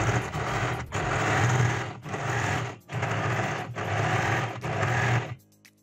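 Sewing machine stitching a canvas strip onto a lehenga edge; five loud close runs of fast steady whirring and needle chatter, each about a second long and separated by brief pauses, with no talk.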